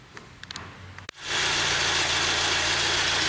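A Fiat Fiorino engine after a partial rebuild, cranking briefly then catching and settling into a steady, loud idle hum close by, following a few quiet clicks and knocks.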